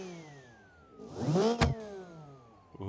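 A custom-built car in the BeamNG driving game revs its engine: one rising and falling rev over a low idle, loud and close, followed by a brief mechanical knock at the end.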